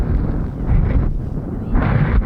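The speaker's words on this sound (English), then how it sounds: "It's so windy." Strong wind buffets the microphone outdoors on an aoudad hunt, in heavy low rumbling gusts, swelling and easing over a couple of seconds with no other clear sounds.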